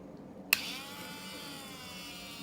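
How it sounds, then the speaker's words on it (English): A small electric nail drill whirs into motion after a brief click, holding a steady high-pitched buzz for the rest of the moment while shaping acrylic nails. "I go right into the drill."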